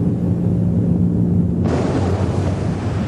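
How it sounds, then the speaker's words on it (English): A volcano erupts from the sea off the southern end of Iceland in 1963, a loud continuous roaring rumble that turns abruptly brighter and harsher halfway through, with no voices. "a volcano emerges from the sea"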